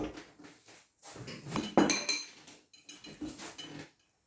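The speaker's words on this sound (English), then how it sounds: "so you're going to mix it together until you get what you want" A utensil clinks and scrapes against a bowl while microwaved scrambled eggs are mixed, in several close bursts of stirring separated by brief pauses, with no talk.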